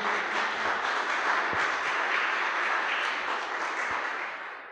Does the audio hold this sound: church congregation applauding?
yes